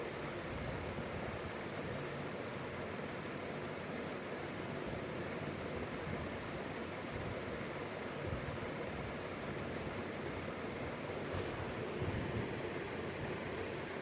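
Water sprays from a hose onto a floor during a household morning cleaning, a steady, even hiss and splash that continues throughout at moderate volume with no talking.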